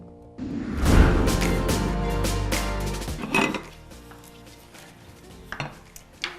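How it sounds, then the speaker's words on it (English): Busy kitchen work with clattering pots, pans and cutlery, knife chopping and stirring, dense and close for the first few seconds, then quieter with scattered clinks and knocks. "There's lots of chopping, slicing, dicing, and stirring going on right here."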